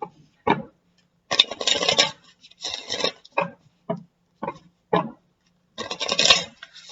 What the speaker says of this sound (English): One more shuffle, and then I'll cut for you